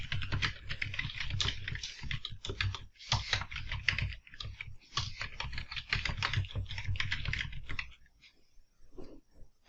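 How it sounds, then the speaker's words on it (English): Steady, fast typing on a computer keyboard, close and continuous for several seconds with brief pauses, tapering to lighter clicks at the end. "As I type that string"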